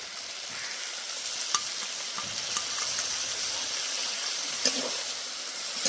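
Tomatoes sautéing in a pan with prawn paste and the water from washing prawns, a steady broadband sizzle with a few sharp utensil clicks and scrapes, fairly close and moderately loud.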